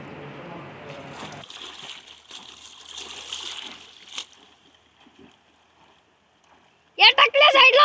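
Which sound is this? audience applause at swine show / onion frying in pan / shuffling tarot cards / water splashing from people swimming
water splashing from people swimming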